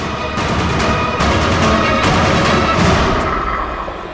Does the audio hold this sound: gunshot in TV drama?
yes